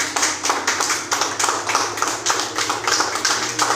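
A church congregation claps in praise of Jesus, loud and rhythmic, with many hands striking together in a quick steady beat of roughly three or four claps per second, close and continuous.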